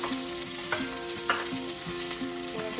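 Onion pieces, cut into squares, fry steadily in a pan with a continuous close sizzle, broken by several sharp scraping stirs at an even pace.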